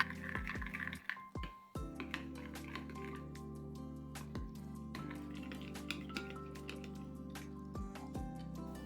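White chocolate is stirred with sunflower oil in a bowl, giving soft, wet squishing and scraping with occasional sharp taps of the utensil against the bowl's side, steady and close by, with no talking.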